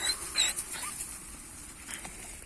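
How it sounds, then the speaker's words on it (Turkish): Faint high-pitched whimpers and squeaky yips from eight newborn puppies, scattered over a steady background hiss, with no talking. "8 tane köpek var şu anda yavru köpek burada"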